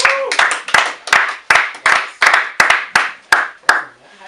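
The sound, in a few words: clapping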